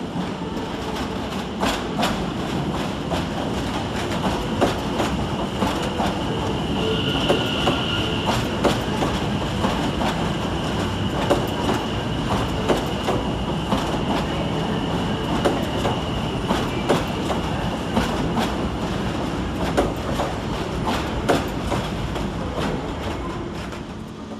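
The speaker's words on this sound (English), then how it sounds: "Arriving to terminate with a Greater Anglia service off Hertford East is 720-531." A Greater Anglia Class 720 electric unit pulls into London Liverpool Street, its wheels clacking steadily over rail joints with a loud, close rumble and a sustained squeal partway through, no voices.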